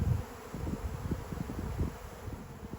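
A swarm of honey bees hovers around a hive box outdoors, giving a soft, continuous buzzing drone that stays faint and a little distant, with no talking.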